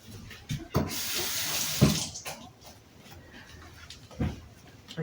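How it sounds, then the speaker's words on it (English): Water from a kitchen tap splashes over a pickle fermentation weight being rinsed, with a few sharp clunks and knocks of the weight against the sink standing out above the running stream. "I do have another weight. And I like to just rinse it."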